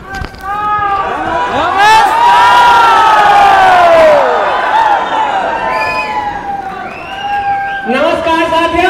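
A standing audience at a Safe Shop gathering cheers and shouts loudly and continuously, many voices rising together into an energetic, sustained roar that swells and then settles.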